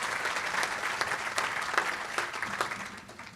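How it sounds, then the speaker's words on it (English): A participants' meeting audience gives the staff a brief round of applause, fairly faint and distant, with dense overlapping clapping at an even level throughout. "So they deserve applause as well."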